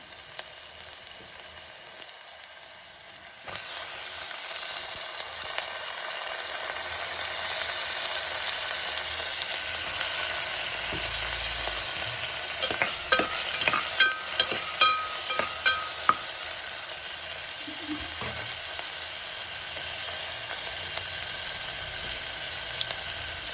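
Tomatoes sizzle steadily in a hot pan for a sambar-style drumstick curry, with a spoon scraping and stirring in clustered bursts midway through and no talk.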